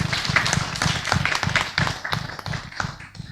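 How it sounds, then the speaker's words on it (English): An audience applauding at the close of a lecture, a brief, moderately quiet patter of clapping hands with uneven rhythm in a room. "Can we give big applause to him?"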